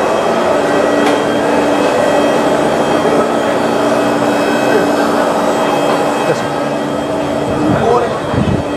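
JTA Skyway train at Kings Avenue station in San Marco, Jacksonville, a loud, steady rumbling drone with tonal hum from the rail cars, sustained close by for the whole stretch without pause.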